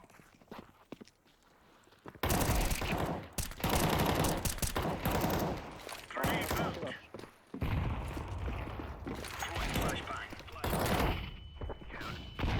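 Gunfire in the video game Counter-Strike during a 5v5 match, loud bursts of shots and clattering footsteps after a quiet start, with players talking over the action.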